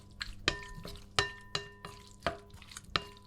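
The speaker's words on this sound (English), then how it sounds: "I'm just gonna mix it around a little. Get my wet jerk seasoning all over the conch." Conch being stirred with wet jerk seasoning, a series of soft wet squelches and clinks about every half second, close and fairly quiet, with no talk.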